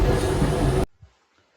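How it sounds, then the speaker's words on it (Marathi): Steady, loud rumble inside a Vande Bharat train carriage lasting under a second, then an abrupt drop to near silence with one faint low thump. "रवीश, कसा वाटतंय पहिल्यांदा ट्रेन मध्ये बसलाय? चांगला? कशी आहे ट्रेन?"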